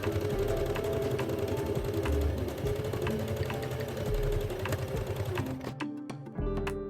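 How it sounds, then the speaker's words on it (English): Sewing machine topstitching a pressed, double-folded hem on a ruffle kimono jacket, a continuous mechanical whir that stops near the end with a few clicks. "Top stitch the pressed hem and press again."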